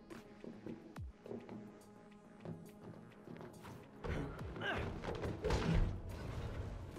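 Heavy thudding footsteps during a stealth section of Final Fantasy XV's Prompto episode, irregular clomping steps growing louder and denser toward the end, with other game noises around them.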